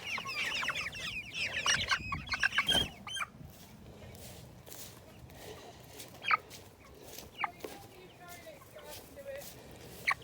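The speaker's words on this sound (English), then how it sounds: "They're chicks." Seven-week-old chicks being handled, with quick bursts of wing flapping and high cheeping early on, then scattered chirps and rustles while people talk nearby.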